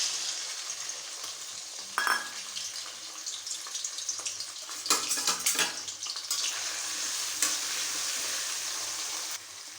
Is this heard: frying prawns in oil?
yes